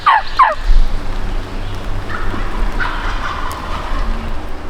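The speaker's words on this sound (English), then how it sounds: "they just gobbled real close" Wild turkeys gobble loudly and close by in the woods with a rapid rattling call at the start, then fainter answering gobbles continue over a steady outdoor background.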